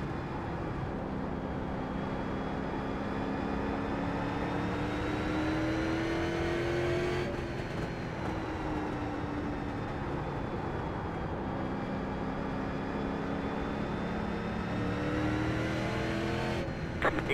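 Simulated race car engines roaring around a short track in the iRacing video game, a steady, loud, continuous drone whose pitch climbs and dips as the cars lap, with no voices over it.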